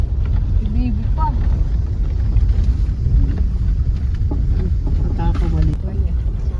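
A motorboat engine on a river rumbles low and steady, mixed with wind buffeting the microphone and faint voices in the background.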